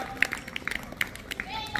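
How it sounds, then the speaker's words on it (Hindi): Scattered hand claps from an audience of children at a school flag-hoisting event, a quick run of sharp uneven claps under a voice talking. "जोरदार तालियां बच्चों के लिए, जोरदार तालियां"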